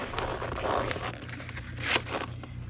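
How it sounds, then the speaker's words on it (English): Paper rustles and scrapes as a comic book slides into a legal envelope and the envelope's sides are folded down, a short rise of crinkling and sliding close to the mic. "This just slides straight into that legal envelope. Fold the sides."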